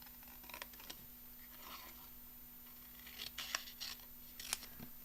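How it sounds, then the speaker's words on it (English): Scissors snip around paper letters for a birthday craft, quiet scattered cuts in short clusters against a steady low hum, with no talking. "I'm just going to cut around the happy and birthday"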